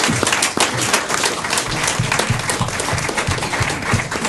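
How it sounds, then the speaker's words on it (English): Audience applause for a panel at a showcase Q&A, a dense, steady wash of clapping from a crowd that fills the room throughout. "I want to give you a massive round of applause to the panel we've just had"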